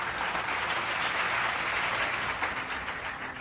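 A crowd at a college years-of-service celebration applauds an employee for 20 years of service: a full, sustained round of many hands clapping at steady strength, thinning slightly near the end.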